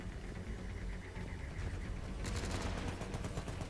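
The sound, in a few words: gunfire in the video game Mass Effect 3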